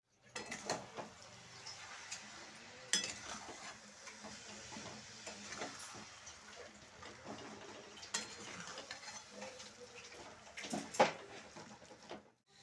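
Coconut mixture stirred in a hot kadai for narkel naru, a spoon scraping and clinking against the metal in irregular strokes, with sharper knocks now and then; close and moderately quiet, no talking.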